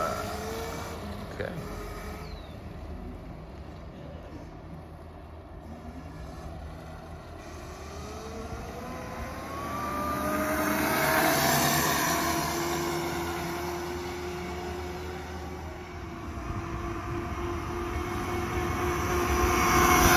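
A 2,000 watt electric conversion of a gas-powered mini bike is ridden: a steady motor whine rises in pitch as it speeds up and fades, over a broad rumble of wind and road noise.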